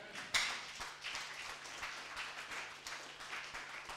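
A church congregation claps their hands together in a fairly quiet, steady patter of many overlapping claps, with one sharper clap standing out near the start.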